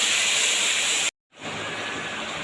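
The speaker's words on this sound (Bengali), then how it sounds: "এবার ওই তেলে আমি ফোড়নে দিয়ে দেবো কালো জিরে আর বেটে রাখা মশলাটা দিয়ে বেশ সুন্দরভাবে এটাকে আমি কষিয়ে নেব" Nigella seeds and ground spice paste fry in hot oil for a fish curry with eggplant and potato, a loud steady hiss that cuts out briefly, then resumes.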